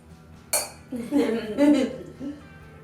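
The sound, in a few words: wine glasses clinking in a toast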